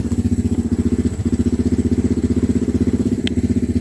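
A Honda trike engine running on brake cleaner instead of fuel idles steadily at close range, its rapid, even pulsing firing rhythm continuing throughout with a brief stumble partway and a faint click near the end.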